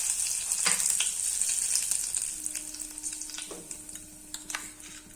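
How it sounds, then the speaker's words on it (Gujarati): Curry leaves hitting hot oil in a tempering for Kathiyawadi dahi tikhari, a close, bright sizzle with a few sharper crackles and stirring clinks, fading gradually with no talk. "મીઠો લીમડો નાખશું."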